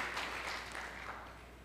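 A church congregation applauding, a short burst of dense clapping that fades gradually, heard at a distance and fairly quiet.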